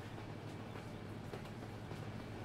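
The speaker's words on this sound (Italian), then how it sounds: "stiamo andando a fianco a fianco ad un treno" A train runs alongside a truck in Euro Truck Simulator 2, heard as a steady, faint, continuous rolling rumble with soft rail clatter and no talking.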